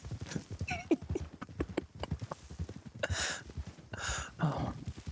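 Horse hooves clip-clop at a steady pace in the video game Red Dead Redemption, with a few breathy snorts and a short whinny mixed in, moderately close.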